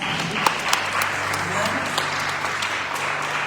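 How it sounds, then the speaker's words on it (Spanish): A church congregation applauds during a sermon by Pastora Mary Chavez, a soft wash of many hands clapping together with a few sharper claps standing out, mixed with faint crowd noise and a low steady hum. "¿Me puede dar un aplauso?"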